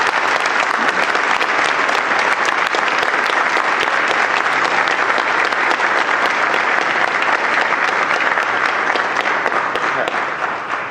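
A large audience at a Veterans Day celebration applauds veterans in loud, continuous clapping that holds steady for about eleven seconds, tapering slightly at the very end.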